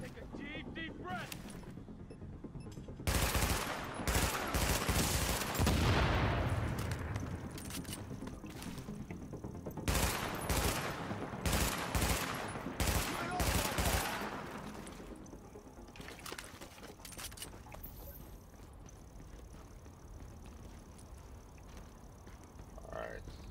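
Bursts of gunfire in The Division, a video game, arrive in several loud volleys with pauses between them, sometimes under voices and game dialogue.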